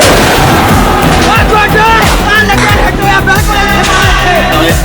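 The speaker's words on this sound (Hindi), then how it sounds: "अभी अभी धमाका हुआ है, अभी अभी इसके दरवाजे टूट गए" Explosions at an airbase come as a dense barrage of loud booming blasts and cracks, with rising whistling tones, continuous and close throughout.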